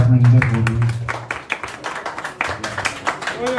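An audience at a press conference claps steadily for a longtime supporter of a concert performer, the applause fairly loud and sustained beneath a voice speaking at the start.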